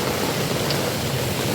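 Steady rain falls in Surat's Katargam area during the monsoon, a dense, even hiss that holds at the same level throughout, with no voices over it.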